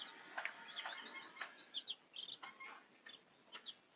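Day-old chicks in a mini brooder warmed by electric lamps make a steady stream of faint, high, short chirps that overlap in quick irregular bursts.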